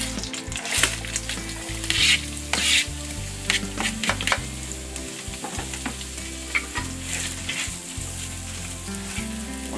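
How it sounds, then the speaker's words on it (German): Diced shallots frying in hot butter in a pan, a steady close sizzle with occasional stirring scrapes, no voices. "die Butter habe ich nun in die Pfanne gegeben zum Erhitzen und gebe nun die gewürfelten Schalotten hinzu."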